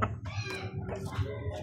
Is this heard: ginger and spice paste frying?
no